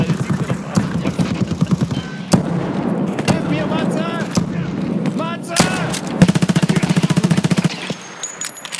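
Rapid gunfire in the video game Escape From Tarkov: sharp single shots early on, then a dense automatic burst near the end, with people talking over much of it.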